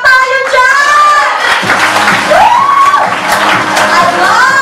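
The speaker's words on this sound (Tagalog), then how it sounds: "Palakpak tayo dyan!" A sales orientation audience erupts in loud cheering and whooping, with voices shouting together and some clapping mixed in, sustained and close throughout.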